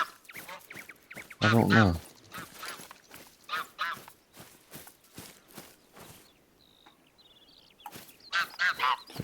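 Geese honk repeatedly in the hunting video game theHunter Call of the Wild at Salzwiesen Park, loud nasal calls in irregular bursts mixed with footsteps, with someone speaking briefly between them.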